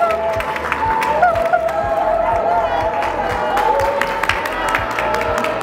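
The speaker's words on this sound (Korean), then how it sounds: "지금 저희를 박수치면서 기다려주시고 계십니다." A crowd claps and cheers at the opening of the Apple Store in Yeouido, Seoul, a dense steady patter of applause with whoops, under someone speaking.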